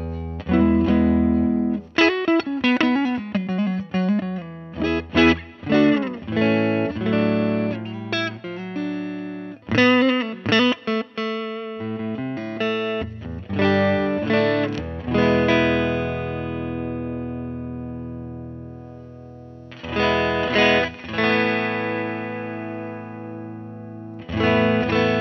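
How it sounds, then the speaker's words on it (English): Electric guitar played through a DIY 6AU6 Princeton tube amp while the treble control is swept, loud strummed chords and ringing notes whose brightness shifts, with sustained decays and a few pauses between phrases. "So that's sweeping the treble control."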